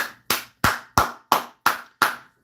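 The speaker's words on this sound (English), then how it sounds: "Clap it up for that." Seven evenly spaced hand claps from a single person, sharp and close, coming roughly three per second, with brief silence between each clap and no voices.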